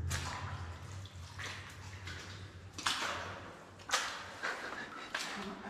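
Water drips in an old mine tunnel deep underground, with several sharp, echoing plinks at irregular intervals over a low hum and faint background rustle.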